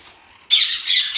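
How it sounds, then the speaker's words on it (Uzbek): Aratinga parakeets squawk loudly in an aviary, a quiet half-second lead-in giving way to a harsh, continuous burst of shrill calls that swells twice. "Bu qushxonamizda aratinka qushlari boqilyapti."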